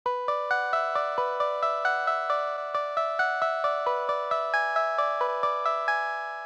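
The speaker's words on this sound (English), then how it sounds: "The first one is the bell sounding melody that we had in the intro." Chiming bell-like synth notes ring out in an even, quick melody, each struck tone decaying into the next, clear and without talking.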